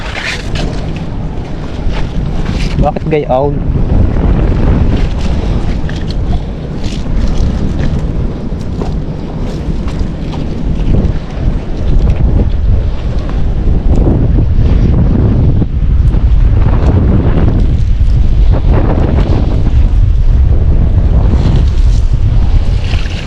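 Strong wind blowing across an open fishpond, a heavy continuous roar and rumble buffeting the microphone, with a brief voice speaking near the start.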